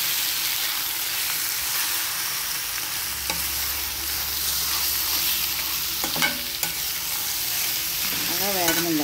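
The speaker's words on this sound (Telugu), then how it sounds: "బాగా వేగనివ్వాలి." Country chicken seasoned with chili powder and salt fries in a pan, a steady dense sizzle running throughout with a few sharper crackles and stirring scrapes near the end, close and fairly loud.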